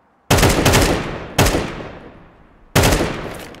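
Three loud bursts of automatic gunfire from a first-person shooter video game, each a sharp rapid volley that trails off, spaced about a second apart with no talking.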